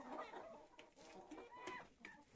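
Several young chickens, including silver Adler hens, cluck and murmur steadily nearby, with occasional sharper calls breaking through the continuous chatter of the flock.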